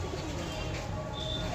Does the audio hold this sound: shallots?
no